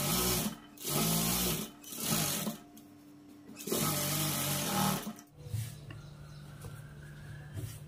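Tailoring sewing machine top stitching a blouse, several short whirring bursts in a stop-start rhythm, close by, then a quieter steady hum to the end; no talking.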